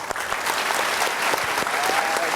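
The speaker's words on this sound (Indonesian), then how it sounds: "boleh kasih tepuk tangan dulu" Audience at a motivational seminar applauds a woman invited to the front, steady dense clapping filling the whole stretch at close range, with no talk over it.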